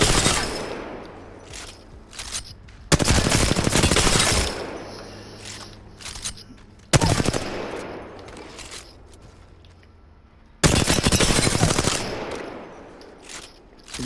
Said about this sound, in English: I'll probably dump like 120 bullets. Practice my hip fire.